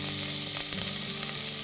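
Red onion sizzling in two tablespoons of hot oil for broccoli soup: a steady, fairly faint frying hiss with a low background hum, continuous for a brief moment and without speech.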